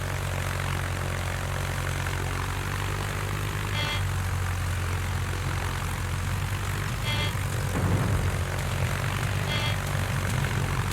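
Fighter aircraft engines in a naval warship battle game, a steady loud droning roar held throughout, with a few faint brief higher bursts over it.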